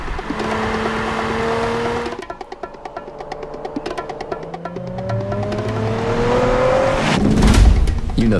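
A 2023 Nissan Z engine revs hard toward nearly 7,000 rpm, its pitch climbing through several gears with brief breaks between shifts, loud and close, ending in a deep rumble.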